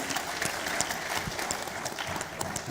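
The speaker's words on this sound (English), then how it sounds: "Big round of applause, please." A small audience at a business networking talk show claps in a quiet, scattered round of applause, fairly faint and brief.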